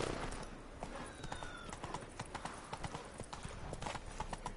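Hooves of the horse Roach galloping in The Witcher 3, a quick rhythmic clip-clop running steadily at moderate volume throughout.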